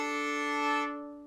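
A fiddle plays a brief sustained, bright bowed note of a double-stop lick, ringing clearly and close before fading out quickly.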